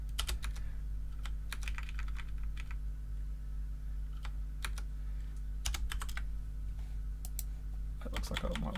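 Typing on a computer keyboard during a computing lecture: quick bursts of clattering key clicks with brief pauses between them, close by, over a constant low room hum.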